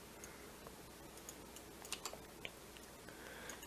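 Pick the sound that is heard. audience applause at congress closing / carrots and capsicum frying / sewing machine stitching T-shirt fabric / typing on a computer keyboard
typing on a computer keyboard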